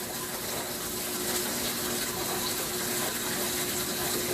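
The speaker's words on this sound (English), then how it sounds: "So this is just a 22-minute rinse cycle." A Samsung washing machine runs a rinse cycle, with water rushing and gushing steadily inside the drum along with a faint pump drone. The sound is continuous and moderately quiet, and no one speaks.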